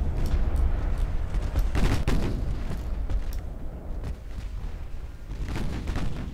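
Naval guns boom and thud repeatedly in Ultimate Admiral Dreadnoughts, heavy low volleys rolling steadily with dense overlapping blasts throughout.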